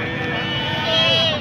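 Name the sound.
goat bleating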